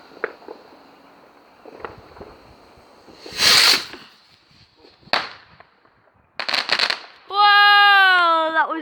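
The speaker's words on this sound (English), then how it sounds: "Another firework." Fireworks on bonfire night going off in a series of sharp bangs and crackles at varying distance, ending with a long whistling, whining rocket, with someone talking faintly in between.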